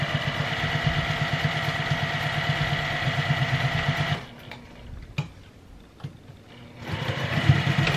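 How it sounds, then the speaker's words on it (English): A sewing machine stitches a fabric bowl cozy with a steady, loud mechanical whir and rapid needle chatter, stops for a couple of seconds with a click, then starts running again. "sew as straight as possible, and go from there"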